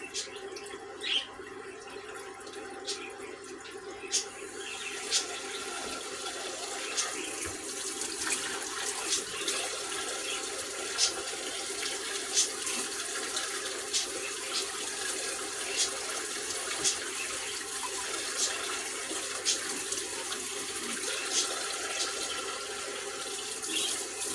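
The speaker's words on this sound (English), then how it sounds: "potatoes have been rinsed in cold water" Potatoes are rinsed under cold running tap water in a kitchen sink, a steady hiss of flowing water with faint clinks and splashes that continues throughout.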